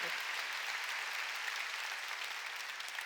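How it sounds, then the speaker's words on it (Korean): Steady, crowded clapping from a congregation during a Korean Sunday church service, a uniform roar of many hands holding level for about three seconds. "박수로 하나님께 영광을."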